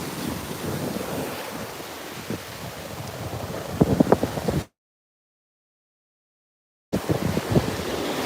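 Ocean waves wash in at a beach resort, a steady broadband rush with wind buffeting the microphone, briefly cut to silence midway before the surf resumes.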